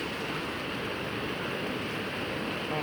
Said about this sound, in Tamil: அருவி சவுண்ட் மட்டும் கேக்குது.